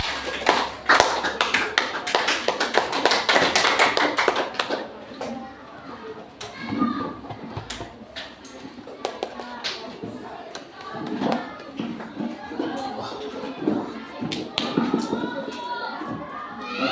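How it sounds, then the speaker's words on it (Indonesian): Children in an elementary school classroom clapping for a classmate, a burst of quick, dense hand claps in the first seconds, then scattered taps and thumps with kids chattering and a teacher talking. "Tepuk tangan buat Santosa Marcelo."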